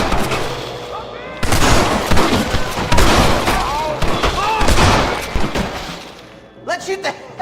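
A Red Dead Redemption shootout fills the scene with loud, rapid gunfire, shots cracking in quick overlapping bursts and heavy booming thumps, while shouting voices cut through the firefight.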